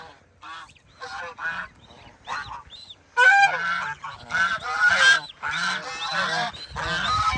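Ducks quacking in a flurry of honking calls, sparse at first and then louder and nearly continuous, close by.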